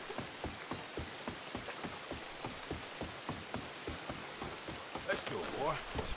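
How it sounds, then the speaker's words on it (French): Steady rain falls in the open-world Western game Red Dead Redemption 2, a continuous hiss over regular rhythmic thuds of movement, with a brief brighter rustle near the end. "Ah, il pleut encore."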